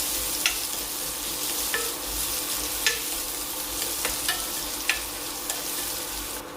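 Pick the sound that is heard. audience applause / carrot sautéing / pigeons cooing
carrot sautéing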